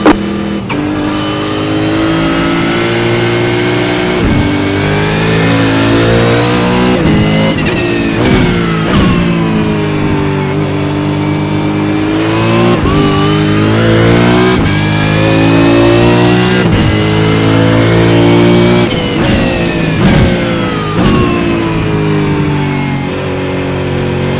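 V8 Supercars race cars accelerating hard around Twin Ring Motegi, with loud, sustained engine roars and repeated rising and falling revs as the cars shift through gears and pass close by.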